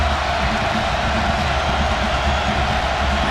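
A college football stadium crowd roars steadily during the 2011 Cal Golden Bears vs. Colorado game, a loud, unbroken wash of cheering and noise with no distinct voices.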